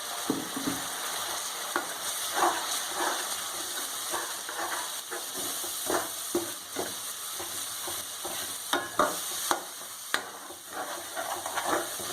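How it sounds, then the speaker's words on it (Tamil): Onion tomato paste with turmeric sizzles in a pan for mattar paneer, a continuous hissing fry with repeated stirring scrapes and soft clicks of the spoon throughout, close and steady with no voices. "ஒரு 2 மினிட்ஸ் அப்படியே ஃப்ரை ஆகட்டும்."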